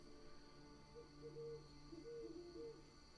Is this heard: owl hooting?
yes